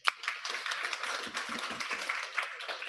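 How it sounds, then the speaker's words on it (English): Audience applause at a medical lecture, a steady wash of many hands clapping that starts with a sharp clap and holds even and fairly loud for the full stretch, with no voices over it. "Big applause."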